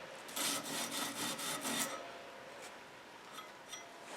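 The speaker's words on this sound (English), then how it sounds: "do quite a bit of sanding before I heat treat it" Abrasive strokes of sanding on a forged Damascus steel knife blade with integrated bolsters, a run of quick rasping rubs up front that then thin to lighter, sparser scratches, close and fairly quiet with no talk.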